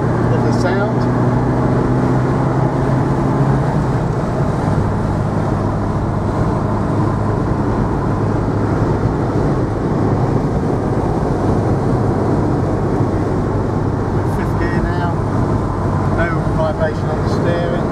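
A 1982 Ferrari 308 GTSi engine pulls up through the gears on an open road, a loud, continuous in-car drone with heavy road and wind noise and someone talking over it.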